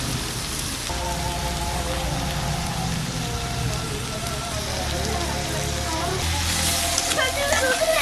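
Onions and potatoes frying in a pan over a village cooking fire, a loud, continuous sizzling crackle with people talking over it.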